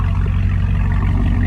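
A car idles through a Solo Performance exhaust, a loud, deep, steady burbling rumble heard up close with no break.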